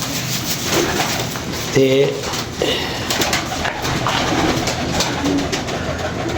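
Pigeons coo in soft, repeated low calls close by while people talk over them, among a breeder's birds including paired pigeons on eggs.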